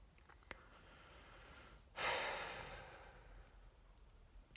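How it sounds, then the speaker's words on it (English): During a meditation, one slow, audible breath rises after a quiet stretch, then fades gently. It is soft and close, with a few faint clicks before it and no talk. "Just breathe."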